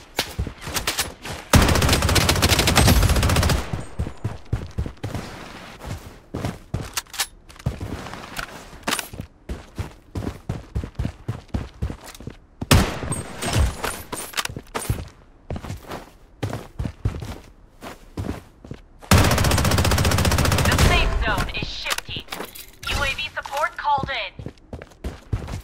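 Rapid gunfire bursts from the video game Blood Strike during a ranked match, loud bursts that start and stop repeatedly, with a synthesized game voice calling out announcements over the shooting.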